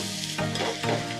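Grated raw mango tipped into a pan of coconut fish curry sizzling on the stove, a brief soft rustle and louder hiss swelling twice over steady frying, close by with no voices.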